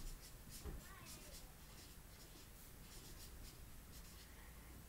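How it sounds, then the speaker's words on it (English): Words are written on a board in a classroom, a faint scratchy stroke sequence at low level with a teacher's voice alongside. "I'm going to write breathes air"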